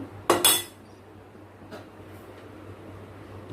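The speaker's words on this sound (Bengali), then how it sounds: "এবার ঢাকা দিয়ে দিই" A metal lid set down on a cooking pot of simmering ghugni gives one sharp double clank near the start, then only a low steady hum and faint background noise follow.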